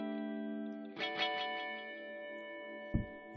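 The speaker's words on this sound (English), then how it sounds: "one of a couple of really, really reverby, really fizzy tones" An electric guitar with a fizzy, distorted tone drenched in double reverb rings out in sustained chords, the notes swelling and decaying with a long echoing tail before a final short strum.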